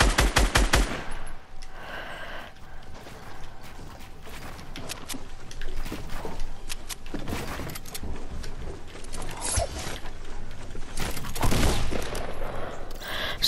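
Rapid bursts of gunfire in the video game Fortnite, dense overlapping shots and sharp cracks running nearly the whole time, loud and close, with no talk over them.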